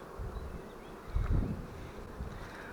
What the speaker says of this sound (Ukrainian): Так що бджіл струшую перед вуликом.